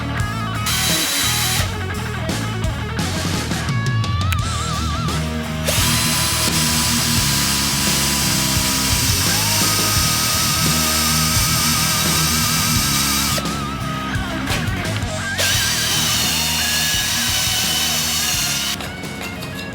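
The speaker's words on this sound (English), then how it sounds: "Drilled a series of holes, going skinny and then a little bit thicker." A power drill bores a series of holes of increasing size during a kitchen knife build, whining loudly and almost without pause, its motor pitch rising and falling as each hole is cut, with no talk over it.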